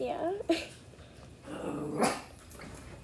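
A dog barks and growls a few times close by, with a person's brief voice mixed in among the yaps.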